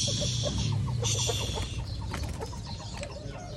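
Chickens clucking close by, a busy cluster of short repeated clucks and squawks that thins out after the first couple of seconds.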